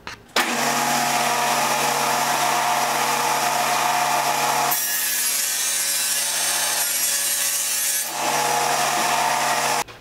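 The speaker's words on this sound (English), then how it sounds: "We'll go ahead and make the cut." A table saw runs at full speed and rips a plywood sheet against the fence, a loud, steady motor whine that turns brighter and harsher while the blade is in the wood, then settles back to a hum before it cuts off.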